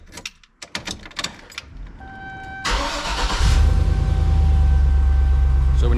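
A few scattered clicks and thumps, then a 1999-2007 truck engine cranks and catches, settling into a loud, steady idle rumble.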